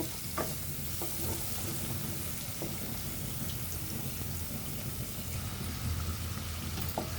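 Spices and green chilies for a large-fish curry sauté in a pan, filling the scene with an even, close frying hiss and faint occasional stirring taps, with no talking.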